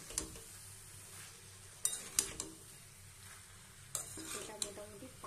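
Jackfruit is stirred and mixed with ground spice paste in a hot pan. A low steady sizzle sits under repeated scraping and clinking of a utensil against the metal, with no talking.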